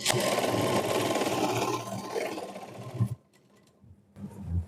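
Sewing machine stitching pieces of a double cut-work blouse from the loose sleeve end up to the armhole, a loud steady whir for about three seconds, then stopping briefly before starting again near the end.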